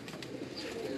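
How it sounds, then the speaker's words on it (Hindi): Parwazi flying pigeons cooing softly and continuously, a low steady murmur with faint chirps over a constant background hum. "ये हमारे अच्छे परवाज़ी कबूतर है दोनों, बहुत अच्छे।"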